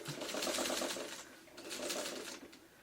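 A sewing machine stitches through fabric pieces while making a small autumn-leaves quilt pattern, running in two steady bursts of rapid needle chatter with a short pause between them, close and clear, with no talking.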